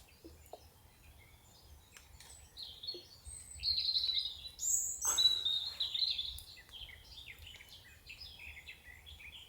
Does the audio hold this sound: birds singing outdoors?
yes